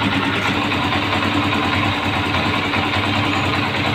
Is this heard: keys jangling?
no